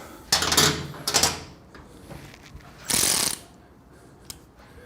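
A 6mm Allen key working loose the exhaust clamp on a Triumph Bonneville T100/T120 slip-on muffler, giving a few short ratcheting, clicking scrapes close up, with quiet gaps between them.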